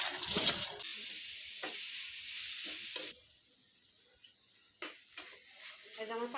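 Greens fry in a pan with a soft, close sizzle that breaks off partway through and then comes back with stirring scrapes. A voice speaks briefly over it.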